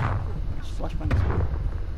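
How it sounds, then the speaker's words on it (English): A flashbang grenade going off in Call of Duty Black Ops Cold War Team Deathmatch, a short sharp burst followed by low rumbling, fairly close and set against steady game ambience. "Flashbang sent."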